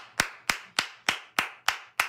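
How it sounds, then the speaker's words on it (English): Seven sharp hand claps land in an even, steady rhythm about a third of a second apart, close and crisp, each one fading quickly, with no talking. "we're going to clap it up for you"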